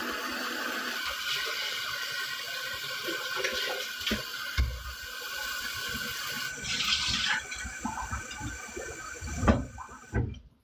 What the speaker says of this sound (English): I rinse this and I'm filling the sink up